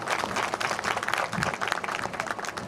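Audience applause at a company branch launch event, a dense, steady wash of clapping from a crowd that runs throughout without pause.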